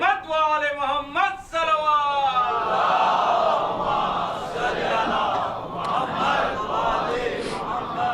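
A large congregation at a Muharram majlis chanting religious slogans in unison, rhythmic voiced bursts at first, then swelling into a loud sustained roaring crowd cry that carries to the end.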